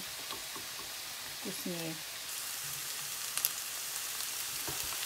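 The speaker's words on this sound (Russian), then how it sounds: "Отдельно обжариваем томат." Tomato paste frying in a pan gives a steady hiss of sizzling, with faint stirring clicks and someone speaking briefly.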